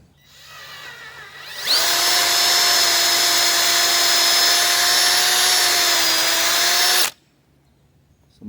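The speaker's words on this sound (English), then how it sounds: "So we're just going to drill our holes here" A power drill with a 1/4 inch bit whines at high speed for about five seconds, steady and loud, after a quieter lead-in, then stops abruptly.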